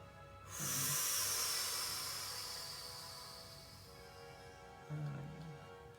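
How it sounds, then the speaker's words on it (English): A long, deep breath drawn during a Remodelage facial massage: a close, airy hiss that swells and slowly fades over several seconds, followed by a shorter breath near the end, quiet with no talk. "So you're gonna take a deep breath."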